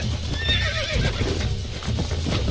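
A wild stallion in the Red Dead Redemption video game whinnies loudly and repeatedly while being tamed, with hoof clatter and game background sound underneath.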